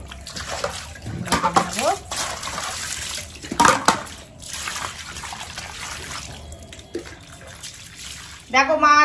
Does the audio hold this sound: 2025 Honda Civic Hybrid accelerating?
no